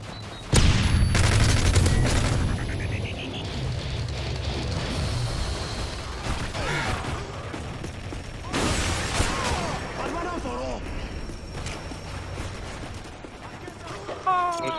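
Repeated bursts of gunfire in the video game Modern Warfare 3, loud and close, with dense volleys near the start and again midway, mixed with other game sounds and a voice talking over it.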